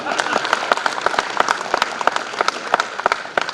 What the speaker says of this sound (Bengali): বিপুল হাততালি হলো না